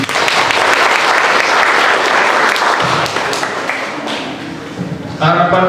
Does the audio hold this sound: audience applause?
yes